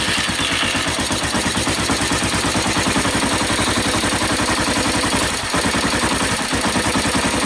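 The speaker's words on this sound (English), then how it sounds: "As soon as I touch that throttle, ever so gently, you can see the bike is not happy" A Suzuki TU 250 X single-cylinder motorcycle engine, its carburetor freshly cleaned, runs roughly at idle with a fast, loud, close chugging pulse and a couple of brief stumbles as the throttle is touched.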